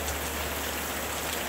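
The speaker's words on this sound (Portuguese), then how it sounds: "Foque no som da chuva." Steady, soft rainfall patters continuously on a surface, an even dense hiss with no gaps and no voices, heard as calm background for a guided sleep meditation.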